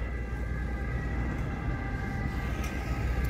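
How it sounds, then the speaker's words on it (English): An ambulance siren wails steadily with sustained wavering tones as it passes, over dense traffic and street noise on the waterfront in Palermo, Sicily, no talking. "I'm sure you can hear the ambulance go by."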